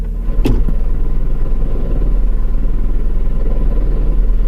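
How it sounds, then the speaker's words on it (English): A used car idling as the clutch is let out, a close, steady low rumble with a fast rattling vibration running through it and a brief knock near the start, no talk. "You hear that rattling sound?"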